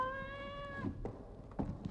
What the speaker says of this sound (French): Et vous introduisez le chat à l'intérieur de cette même boîte.